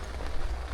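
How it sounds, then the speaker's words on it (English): Rain falls on a rooftop tent during a road trip across Siberia, a close, soft pattering patter over a low rumble, brief and continuous with no voices. "Now it's raining outside."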